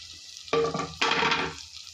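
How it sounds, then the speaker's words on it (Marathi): Finely chopped, washed coriander hits hot tempering oil in a pan, giving two sudden bursts of loud, close sizzling about half a second apart that fade quickly. "बारीक केलेली कोथिंबीर आहे स्वच्छ धुतली बारीक केली ती मी यात फ्राय करत आहे"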